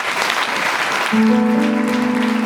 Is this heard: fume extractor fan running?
no